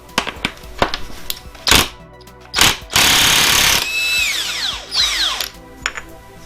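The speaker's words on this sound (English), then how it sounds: "Luckily I've got an impact gun." An impact gun loosens a bolt on a stripped-down Mazda MX5 MK2 engine during a turbo build. Sharp, loud rattling bursts come in short repeated blasts, followed by a longer hammering run and ringing metallic clinks, with no voices.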